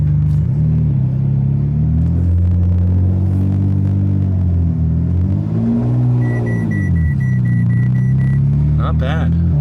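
A Porsche 991.1 GT3RS fitted with an iPE exhaust drives at low speed, its engine note rising and falling through gentle throttle changes, loud and close, with a brief high tone and a voice heard near the end.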